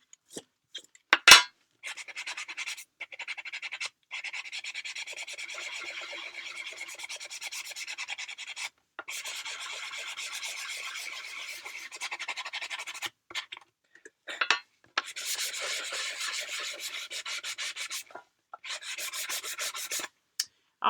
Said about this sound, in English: Watch me sand right through the bottom of the thing.